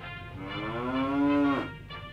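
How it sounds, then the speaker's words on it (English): In the video game Fallout 3, played with mods, a cow sounds one long drawn-out moo that rises and then breaks off, loud and close, followed by a brief softer grunt, with no talk. "There seems to be a cow in your bedroom."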